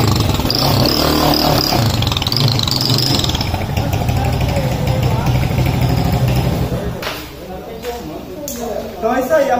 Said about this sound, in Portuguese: a moto tá dando um pouquinho de excesso no alto